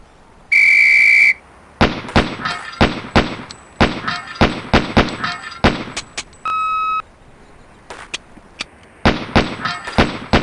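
A shrill referee whistle blast opens a pistol drill on pepper popper steel targets, followed by rapid sharp gunshots in uneven bursts, a brief electronic beep tone midway, then more shots, loud and close.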